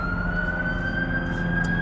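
An ambulance siren wails steadily through dense downtown traffic in Vancouver, loud and continuous over the rumble of road noise from inside a car.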